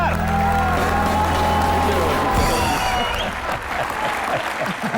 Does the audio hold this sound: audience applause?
yes